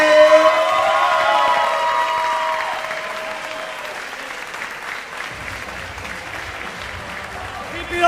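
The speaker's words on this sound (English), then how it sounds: "Put your hands together, start clapping right now, start clapping right now." Audience at a comedy show breaking into loud applause for a comedian, strong clapping that gradually fades and thins out as a voice speaks over it.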